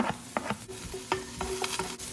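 Garlic and green onion sauté in a hot pan for a crab, pork and tomato vermicelli soup, a soft steady sizzle broken by repeated scraping strokes of stirring, heard up close with no talking.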